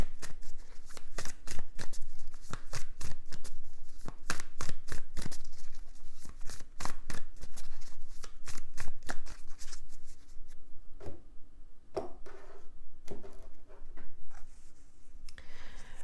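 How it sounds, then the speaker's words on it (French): Tarot cards are shuffled, slid and laid down on a table with a continuous papery flicking and riffling that thins out toward the end, close up with no talk. "On va recouvrir les cartes."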